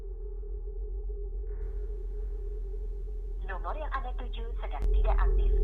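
A steady electronic phone call tone in Sakura School Simulator drones throughout, with a short burst of voice over it near the end before a sharp click.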